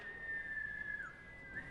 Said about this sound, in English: people have reported hearing a strange whistling there at the Fulton.